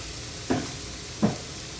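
Onions with salt sautéing in a pan for an egg roast, a soft steady sizzle broken by two short scraping stirs about a second apart.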